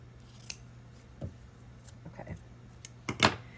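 Scissors trim quilt fabric in a handful of faint, sparse snips spread across a few seconds, each a short crisp click, with a low hum underneath and no talking.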